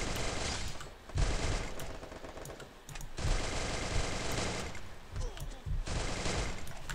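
Cobra MP40 submachine gun firing in the Free Fire video game, sustained loud automatic bursts in several long runs with short pauses between, near and dense throughout.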